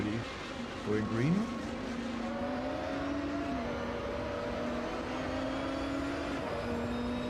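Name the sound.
race car engine revving in Automobilista 2 video game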